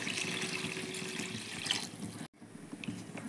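Water running into a cooking pot while preparing a Tamil home-style dish, a steady splashing pour that stops abruptly partway through, followed by a quieter pause and faint kitchen noises.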